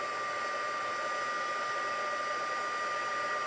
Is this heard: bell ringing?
no